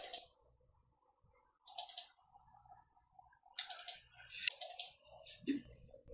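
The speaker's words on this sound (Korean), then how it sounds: "더블 클릭해서 계속 푸시풀 명령을 반복 실행합니다." Computer mouse double-clicks and keyboard key presses during 3D modeling software work, sharp close clicks in short bursts with quiet gaps, while someone talks.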